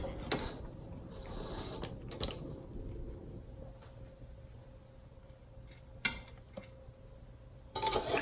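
A spoon clinks and scrapes against a pot as cooked chicken tikka biryani rice is dished out, a few sparse, faint metallic knocks over a quiet kitchen hush.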